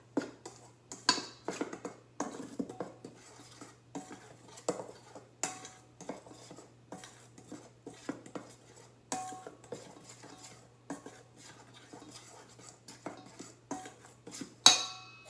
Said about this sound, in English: I am going to mix all of our dried ingredients together